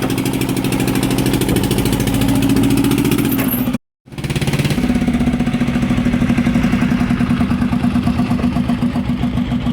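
A small passenger ferry's engine drones steadily and loudly throughout while under way, with a steady low throb and mechanical clatter, broken by a brief dropout near the middle.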